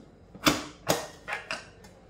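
Pressure cooker lid pressed into place on a small cooker, heard as four sharp, close metallic clicks and clacks, spaced a fraction of a second apart, with nothing else around them.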